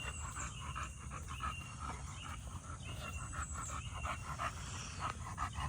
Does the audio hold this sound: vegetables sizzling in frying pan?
no